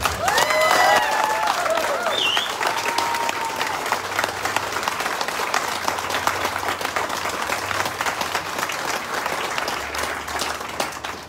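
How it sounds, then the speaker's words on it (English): An audience at a veterans' motorcycle event gives a steady, even round of applause that holds throughout, with a few whistles near the start. "How about a round of applause?"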